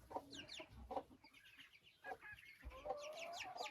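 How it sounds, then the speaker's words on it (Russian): Silkie chicks and a broody hen cluck and cheep inside a chicken coop, with soft irregular calls and chirps close by and quiet pauses between bursts. "хочу, чтобы при мне цыплята с квочкой вышли погуляли"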